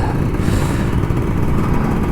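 An old Kawasaki Ninja RR 150 two-stroke motorcycle revs up close and loud in the morning, a continuous buzzing, rasping engine roar with no talking over it.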